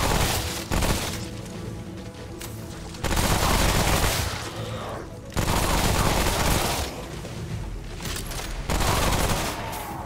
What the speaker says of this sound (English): Goblin men with cowboy hats and machine guns.